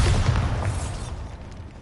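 Bombarda spell explosion in the Hogwarts Legacy video game, a loud, broad rumbling blast already under way that slowly decays over nearly two seconds.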